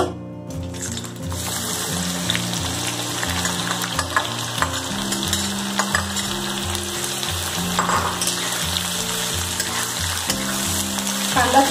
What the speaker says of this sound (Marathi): आता तेल छान तापलेलं आहे, आपण त्याच्यामध्ये सर्वप्रथम कांदा टाकणार आहोत.